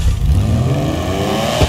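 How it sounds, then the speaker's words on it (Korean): A car's exhaust note in GTA 5 with customizable exhaust sounds, a loud, steady low engine drone with a slight rise in pitch, close and continuous throughout. "GT5 최초로 배기음을 바꿀 수 있어요"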